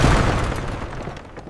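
A single heavy cannon blast in wartime, a deep booming burst at the very start that decays into a fading rumbling tail over about a second and a half.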